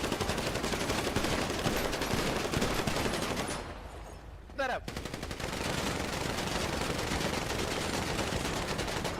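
Video game gunfire fills the scene as rapid, dense bursts of shots, broken by a short lull before the firing resumes at full loudness. Voices may be faintly mixed in.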